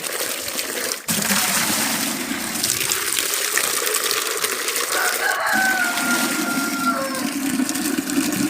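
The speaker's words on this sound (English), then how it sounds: "We got some new roosters today." A rooster crows out in the open, its call rising over steady rushing water that fills the background.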